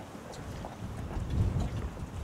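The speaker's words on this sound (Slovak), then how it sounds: "strašne fúka vietor." Strong wind buffets the microphone beside a carp-fishing lake in Hungary, a steady low roaring rumble that swells louder midway through and then holds, with no voices.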